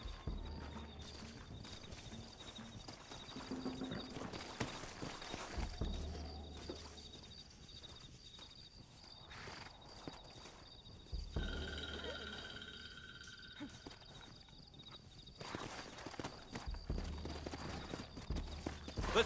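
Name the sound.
horses galloping in video game Red Dead Redemption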